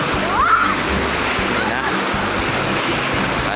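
Khok Phae waterfall on the Lam Takhong rushes and splashes close by, a loud, unbroken roar of falling water.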